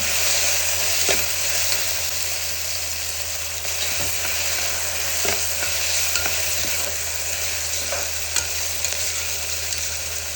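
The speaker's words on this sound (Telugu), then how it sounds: "వేసుకొని బాగా ఫ్రై చేస్తాను" Ingredients with coriander and curry leaves frying in a pan for a home-cooked lunch, a steady close sizzle running throughout, broken by occasional scrapes and knocks of stirring.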